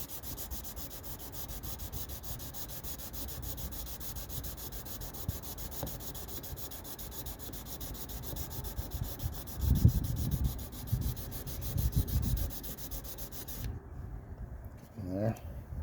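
Wet sanding a boat instrument gauge lens with 600 grit gives a steady scratchy rubbing, rising into a few heavier strokes, before falling quiet.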